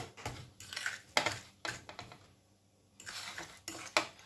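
A utensil scrapes and clacks against a bowl in uneven bursts while a mashed potato mixture with cornstarch, salt and pepper is stirred, close and fairly quiet, with a short pause midway.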